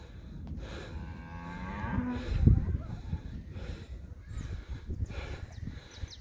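Cattle low and moo near a loaded truck, one drawn-out moo standing out amid a busy herd and background rustle, with voices talking in the mix.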